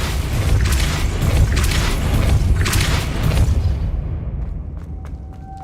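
A deep magical blast booms as the Depulso spell is cast in Hogwarts Legacy, a loud rumbling burst lasting several seconds before fading into quieter game ambience.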